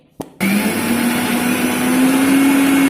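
A click, then a mixer grinder grinding spices and curry leaves starts abruptly and runs with a steady, loud whirring whine that rises slightly in pitch; no talking.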